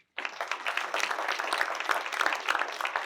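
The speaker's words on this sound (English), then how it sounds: "Let's give a round of applause." A crowd applauds at a county board meeting during a volunteer recognition awards ceremony, dense clapping starting abruptly and holding steady and loud with no talking.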